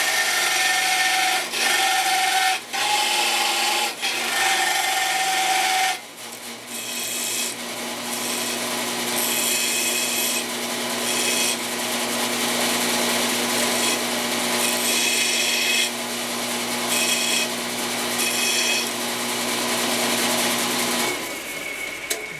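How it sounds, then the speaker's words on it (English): A belt sander rasps continuously against the edges of a metal motorcycle camera mount, loud and close, with short pauses and repositioning early on before a long sustained grind. "next step over on a belt sander"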